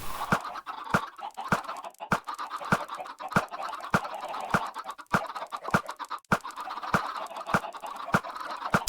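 Chickens in the video game Minecraft, heard as a steady series of short, evenly spaced clucking blips over a busy background, repeating roughly every half second.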